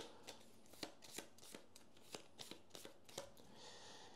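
A deck of cards for the Aeon's End board game is shuffled by hand, giving quiet, close riffles and soft taps in an irregular rhythm.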